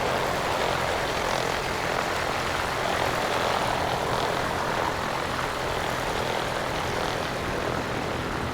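A Piper PA-38 Tomahawk landing in the X-Plane 11 flight simulator: a steady, loud propeller engine drone that fills the whole stretch evenly, with no speech.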